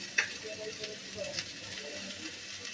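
Mustard paste with coriander and cumin powder going into a hot pan of oil for a Bengali vegetable curry, giving a steady close sizzle with stirring scrapes and a brief clink.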